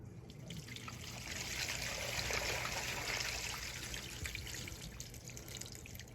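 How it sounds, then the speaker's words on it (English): After a toilet is flushed in the apartment upstairs, water trickles and drips from a leaking ceiling pipe in a sewer line, a faint, steady running flow that swells slightly in the middle. "Get ready to have the partner flush the toilet a couple times to see if that leak is still there or not."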